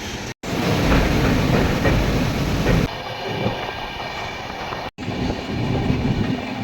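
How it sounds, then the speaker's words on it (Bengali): The Shipra Express passenger train, travelling from Asansol to Ujjain, rumbles steadily with rhythmic wheel clatter, loud and continuous, with brief dropouts and a shift in tone partway through. "কাটানি মারোয়া স্টেশন থেকে আমাদের ট্রেন ছেড়ে দিয়েছে"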